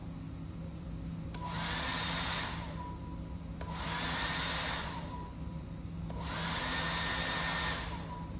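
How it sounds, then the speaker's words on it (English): A large residential air conditioner cycles on three times, each burst a steady broadband whoosh of roughly two seconds over a constant electrical hum, rising and falling with short quiet gaps between. "Now we're going to bring on the big air conditioner"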